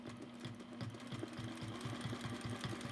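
A sewing machine doing free motion quilting around a ruler, running at a steady fast pace with a rapid regular needle thump and motor hum, close but soft, with no talking.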